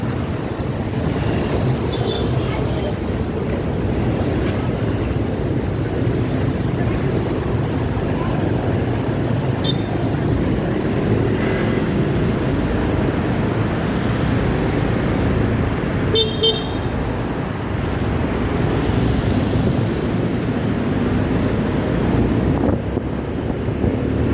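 Street traffic on an avenue in Taguig City where many large trucks head to a factory: a constant roar of passing vehicles and wind buffeting, with a few brief, distant horn toots.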